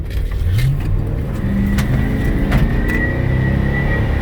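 A 2005 Chevy Express 3500 passenger cargo van with a 6.0 Vortec engine accelerating on a test drive, heard from inside: a loud, continuous engine drone with rising revs and a whining tone, plus occasional road clunks.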